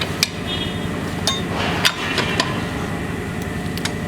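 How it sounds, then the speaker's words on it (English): A wrench works at the lug nuts of a car wheel while a flat tire is being changed, giving sharp metallic clinks and taps scattered over a steady background rumble. "You just want to loosen it up and not take them out."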